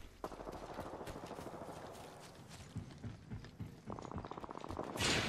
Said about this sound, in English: Oh no! I hear gunshots.